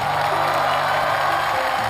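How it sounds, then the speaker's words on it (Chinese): Audience applause with some cheering welcomes a troupe of Sichuan Langzhong folk dancers performing the 'liang hua xie' flower-shoe dance on a studio stage, a steady dense wash of clapping heard throughout. "来，我们掌声欢迎一下老朋友啊。"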